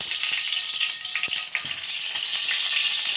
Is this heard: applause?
no